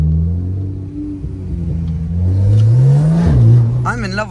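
A decat Porsche Turbo S accelerates hard, its loud engine note climbing in pitch with a throaty rumble and rising roar, then dipping as it shifts, with a person talking over the end.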